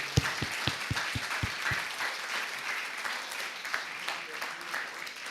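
An audience at a conference on Louis XIV applauds the Delémont town hall, with a few distinct claps at first that swell into a steady, moderately quiet round of clapping with no talk.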